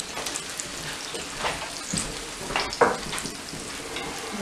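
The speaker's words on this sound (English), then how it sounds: "Just taking it out of the oil." Chicken frying in hot oil in a cast iron pan, a steady crackling sizzle with occasional louder pops and spatters, close and continuous.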